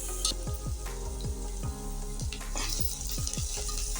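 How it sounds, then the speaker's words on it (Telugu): Chopped medium onions frying in hot oil in a pan, a steady close sizzle broken by repeated clattering stirs roughly every half second, alone without talk. "ఆనియన్స్ కొంచెం మగ్గేదాకా ఫ్రై చేసుకోవాలి"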